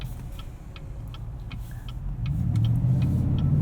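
2018 Chevrolet Tahoe RST Performance Edition cornering, heard from inside the cabin: a low engine drone with faint ticking rattles that swells louder and rises in pitch partway through.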